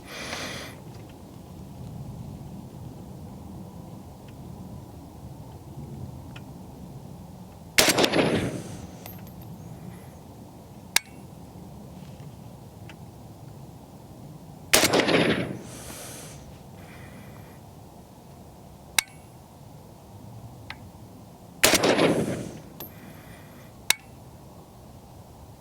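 A PSA AK 102 rifle chambered in .223 fires SuperVel 77-grain rounds at a 50-yard range: three sharp, loud shots spaced about seven seconds apart, each with a short decaying echo over steady outdoor background hiss.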